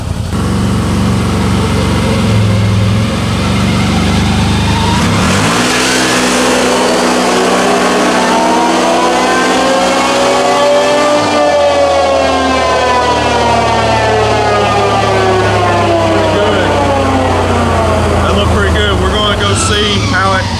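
A CFMOTO ZFORCE 950 side-by-side engine on a dyno, a loud sustained run that climbs steadily in pitch through the gears with long rising revs, heard up close with people talking in the background.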